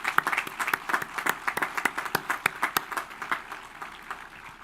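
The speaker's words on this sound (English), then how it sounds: "Thank you for joining me in that round of applause to thank her for her hard work and dedication." A law school commencement audience applauds a senior law library assistant retiring after 39 years, a steady round of moderate clapping from a large crowd that gradually thins toward the end.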